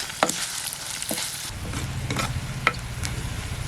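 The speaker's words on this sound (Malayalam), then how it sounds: "ഉള്ളി ഇച്ചിരി കൂടുതലുള്ളത് നല്ലതാണ് ഇത് നന്നായിട്ടൊന്ന് മൂക്കണം" Chopped onions sautéing in a pan for a green chilli curd curry, a steady soft sizzle with occasional scraping stirs and light utensil taps.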